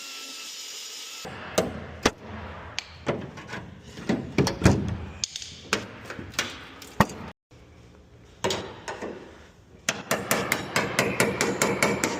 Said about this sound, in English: you can usually use a chisel and just kind of hammer through it